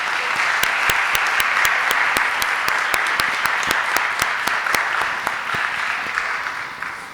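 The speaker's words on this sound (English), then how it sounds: "Can I get a round of applause for our live music in the back?" A crowd at a university honors program spring celebration gives sustained applause for the live musicians, a thick wash of clapping with a few sharp, distinct claps standing out nearby, fading gradually toward the end.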